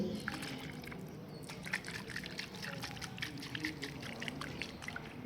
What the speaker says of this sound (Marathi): नारळात पाणी हे हलत आहे. पाणी अजिबात त्याच्यातून गळत नाही.